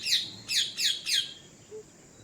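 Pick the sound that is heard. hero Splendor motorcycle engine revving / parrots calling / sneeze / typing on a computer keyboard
parrots calling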